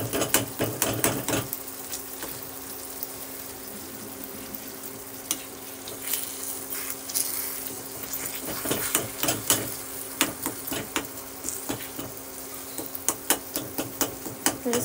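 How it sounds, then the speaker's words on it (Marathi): Peeled tomatoes being mashed with a metal spoon for a dhaba-style palak paneer, with repeated scraping, tapping and squishing clinks against the pan at an irregular rhythm, close and fairly loud, with no talking. "एका स्पूनच्या साहाय्याने किंवा आपण जे चमचा घेतलेला आहे त्याच्याने असं आपण याला मॅश"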